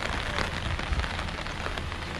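Steady rain falls outdoors, a dense continuous patter of drops on surfaces filling the whole stretch at moderate loudness with no voices.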